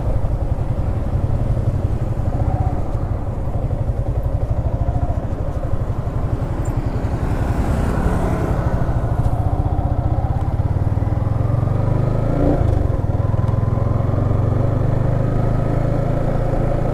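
A Yamaha Exciter 155 VVA motorcycle with about 5,500 km on it, ridden through town streets at night, with a steady buzzing engine drone and slight rises in revs, loud and close throughout.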